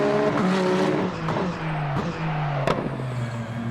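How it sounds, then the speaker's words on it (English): A racing car engine drones at steady high revs with brief gear-shift blips and a sharp click, loud and continuous. "Oh, this car sounds good too."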